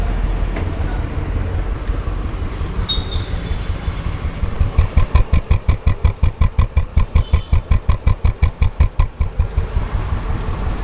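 A restored Royal Enfield Bullet 350 BS3 fitted with a stock silencer idles close by, first as a muddled low rumble and then as a steady, evenly spaced thump that stays loud and alone to the end.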